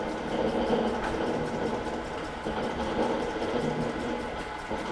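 A Morey vertical shaper running in first gear, a continuous mechanical hum with rapid regular rattling of the ram stroke, close, steady and fairly loud, with no speech.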